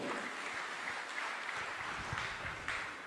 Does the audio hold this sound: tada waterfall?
no